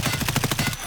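Under a second of close, loud full-auto fire from an M4 rifle in Escape From Tarkov, roughly eight quick evenly spaced shots ending abruptly.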